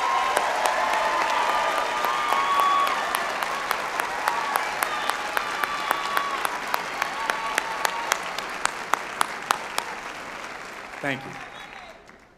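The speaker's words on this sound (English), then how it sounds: "Please join me in applauding them for their wisdom, guidance, and investment in our graduates" A graduation ceremony audience gives the faculty sustained applause that gradually thins and fades out, while a single voice briefly offers thanks near the end.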